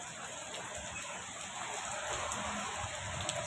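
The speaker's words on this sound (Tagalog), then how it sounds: "Lakas ng ulan." Heavy rain falling steadily, a dense continuous hiss of drops on surfaces at moderate distance, even and unbroken throughout with no voices.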